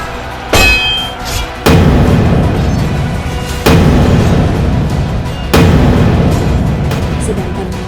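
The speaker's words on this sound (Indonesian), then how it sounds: "Bang Hayali menembak meriamnya terus-menerus hingga membuat meriamnya panas" Cannon in an animated 3D legend film fired over and over: loud booming blasts roughly every two seconds, each followed by a long rumbling, clattering roar, with a metallic clang at the start.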